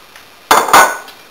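Jicama pieces dropped into a pan in a home kitchen, giving one sharp clattering knock followed by a second ringing clink, close and loud.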